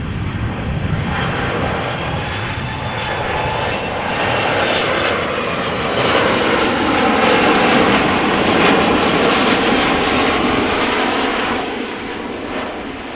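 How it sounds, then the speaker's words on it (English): A TUI fly jet arriving from Heraklion and landing at Amsterdam Schiphol, its engines giving a loud sustained roar that builds and then eases slightly toward the end, no one speaking. "TUI fly arriving from Heraklion."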